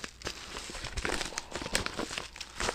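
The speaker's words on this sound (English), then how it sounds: "I'm going to take this book, my Godhead Doctrine book, and I'm going to put it right into that padded envelope right there" A book being slid into a padded envelope, with close crinkling and rustling of the plastic-lined mailer in short bursts throughout, no talking.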